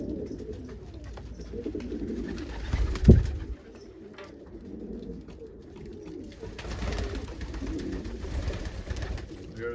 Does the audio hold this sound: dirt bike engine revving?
no